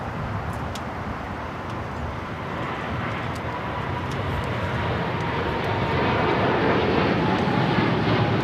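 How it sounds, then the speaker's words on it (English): A British Airways Boeing 777-300ER airliner takes off from LAX bound for London Heathrow, its engines a broad, steady roar that builds gradually and stays loud and continuous throughout, with no talking. "This is British Airways 282 taking off to London Heathrow"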